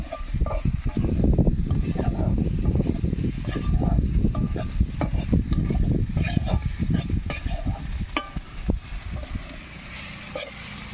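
Mango pieces fry in a pan with a loud, dense sizzle and crackle. The sound settles a little toward the end.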